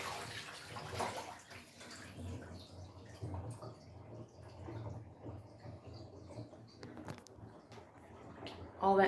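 Water runs and splashes steadily in a sink basin while homegrown cabbages are washed, a soft continuous gush with small drips and sloshes, fairly quiet and close.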